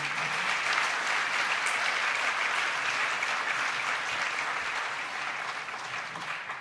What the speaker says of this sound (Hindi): जोर से ताली बजाओ, जोर से बजाओ